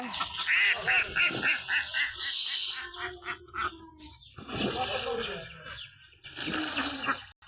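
Ducks quack in a quick series of nasal calls close by, followed by scattered squawks and honks with pauses between.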